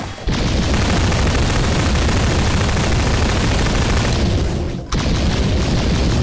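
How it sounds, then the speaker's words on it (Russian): Dense, relentless machine-gun fire in Garry's Mod roars continuously at close range, with heavy booming blasts and a brief drop near the end before the barrage resumes. "Это выстрелы громкие."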